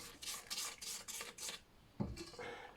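A spatula scrapes cake batter down the sides of a mixing bowl in a run of quick, rhythmic rasping strokes, followed by a soft knock and a few fainter scrapes, close and alone.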